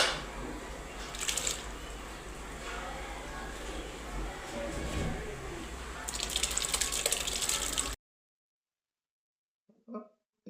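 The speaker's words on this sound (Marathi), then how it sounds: "दणदणीत उकळी फुटली आहे." Water bubbles hard in a pot for making sago papad, a continuous close boiling wash that swells louder near the end before dropping into near silence.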